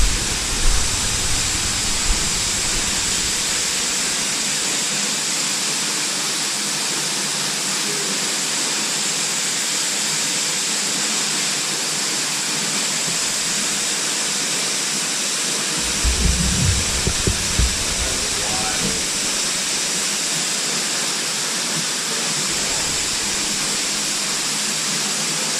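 A roaring waterfall echoes inside a cave, a steady, loud, broadband rush of falling water that fills the space without a break and never fades.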